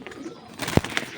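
A Beji breed pigeon in a cage gives a single low coo, close and brief, followed by a faint higher chirp, with quiet background rustle.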